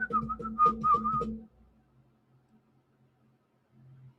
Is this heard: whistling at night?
yes